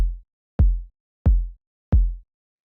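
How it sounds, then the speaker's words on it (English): A punchy, deep kick drum with light saturation thumps four times at an even pace, each hit booming low and decaying quickly, loud and isolated with no voices. "It's just like a super punchy kind of like,"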